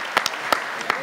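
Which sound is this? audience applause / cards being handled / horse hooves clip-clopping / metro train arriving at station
audience applause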